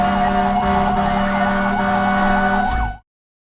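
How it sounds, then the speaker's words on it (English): A fire truck siren wails loud and near, sweeping up and down over a deep engine rumble, then cutting off abruptly. "Listen to the sound of fire truck."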